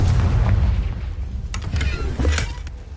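Confringo blasting spell exploding in the Hogwarts Legacy video game, a loud rumbling boom with crackling bursts that rolls on for several seconds, heavy low-end and no voices over it.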